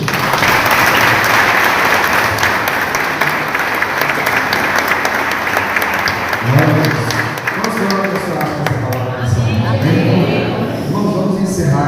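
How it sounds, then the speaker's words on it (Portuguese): A church congregation applauds loudly and steadily for most of the stretch, a dense roar of many hands; toward the end the clapping thins and a voice speaks over it. "Vamos aplaudir a Jesus."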